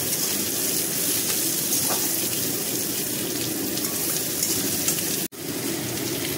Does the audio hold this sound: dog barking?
no